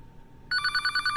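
A cell phone rings during a live stream, its bright warbling electronic ringtone cutting in abruptly after a quiet moment and pulsing loud and close.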